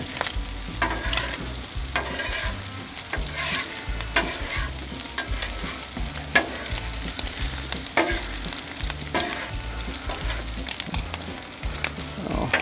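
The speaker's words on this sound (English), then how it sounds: "Mix all that in together, get it nice and going. Keep in mind I'm cooking stuff over here, so you don't want to burn it." Caramelized onion and bacon sizzle steadily in a pan while a utensil scrapes and stirs through them, making repeated close scraping sounds over a continuous fry.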